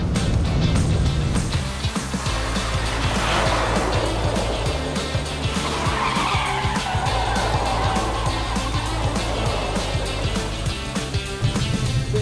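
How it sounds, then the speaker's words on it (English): Mercedes-AMG C 63 Coupé or GT 63 S 4-Door Coupé drifting in rear-wheel-drive mode, a loud continuous engine roar with tire noise, steady and close throughout. "you have this mode, drift, where it becomes only rear-wheel drive"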